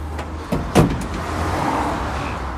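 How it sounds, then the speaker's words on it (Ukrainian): A 2014 Renault Kangoo ZE electric van window slides open with a short motor whir after a couple of faint clicks, then a quiet steady hum from inside the vehicle. "Скло відкривається ось так."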